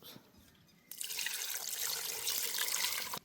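Water pours into a cooking pot of mutton bones and meat for a village-style bone curry, a sudden steady gush that runs loud and close for a few seconds after a quiet start.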